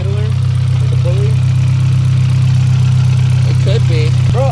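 Nissan R34 Skyline engine idling steadily with a whirring idler pulley noise, a constant low drone close by throughout, with a few brief squeaks and a sharp tick near the end.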